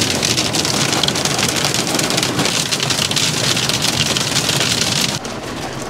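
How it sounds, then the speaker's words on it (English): Small hail falls outside a van, a dense, steady patter close by that holds at constant loudness and eases slightly near the end, with no voices. "Wow, it's hailing outside."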